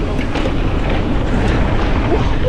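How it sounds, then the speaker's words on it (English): Strong wind gusts blast across the microphone outdoors at mountain bike dirt jumps, a loud continuous roaring buffet with no break. "That wind's terrible"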